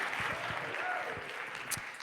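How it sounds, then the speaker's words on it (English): Scattered audience applause at a community freedom-songs event, with a handful of distinct claps mingling with voices in the room; moderate and fairly brief. "Give them another round of applause, please."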